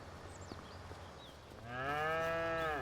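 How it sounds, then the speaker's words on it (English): A cow moos in Farming Simulator 25, one long, loud, drawn-out call in the second half, with faint farm ambience and distant birds before it. "Oh yeah, these guys are big cows."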